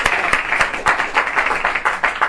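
An audience applauds an author at a crime novel's book launch, with close, distinct hand claps in a loose, uneven rhythm over a short burst, voices mixed faintly underneath.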